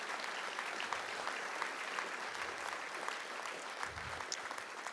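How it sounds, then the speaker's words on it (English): Audience at a Platte County candidate forum applauding the House candidates: continuous, even clapping from a room of people, heard at a moderate distance and fairly soft, with no talk over it. "Please, another round of applause for our House candidates."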